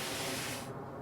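A spray lance in Farming Simulator 25 lets out a dense, hissing spray that runs steadily for under a second before its bright top end drops away, leaving a softer rush.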